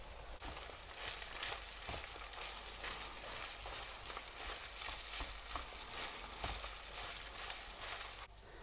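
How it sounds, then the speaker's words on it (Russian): Minced meat and chopped onion sizzle in a pan, a steady dense frying hiss with faint scrapes and clicks as the mixture is stirred, no voices over it. "И вместе с нарезанным репчатым луком я, конечно же, перемешаю и обжарю около 5 минут."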